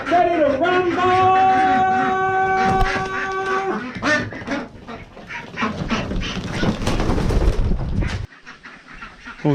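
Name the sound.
ducks quacking on a farm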